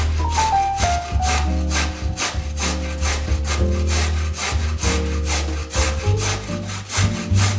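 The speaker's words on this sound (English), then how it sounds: "Grating works best here too." A carrot is rubbed against a grater in a steady rhythm of rasping strokes, close and fairly loud, with no talk.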